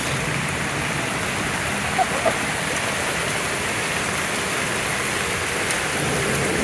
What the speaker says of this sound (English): Really coming down. It's a real storm.